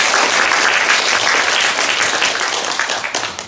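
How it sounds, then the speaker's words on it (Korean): A studio audience at a Korean talk show greets two guests with warm, dense applause, loud and even before gradually thinning out toward the end. "여러분 따뜻한 박수로 맞아주시기 바랍니다"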